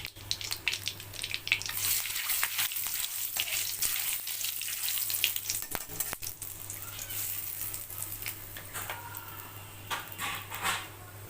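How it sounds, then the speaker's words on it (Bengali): Bay leaves and whole garam masala fry in hot oil for a pumpkin and mutton curry, giving a steady close crackling sizzle with scattered sharp pops throughout, no talking. "তেলেতে তেজপাতা দেব গোটা গরম মশলা দেব"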